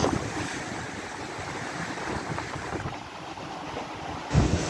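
Rough, roaring storm surf churns continuously against seafront buildings in Bodrum, Turkey, with heavy wind noise buffeting the microphone, and a louder wave thump near the end.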